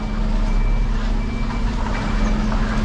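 Steady reversing beeps from a refuse collection truck backing up, a thin repeated tone over loud, constant diesel engine rumble close by, with no talking.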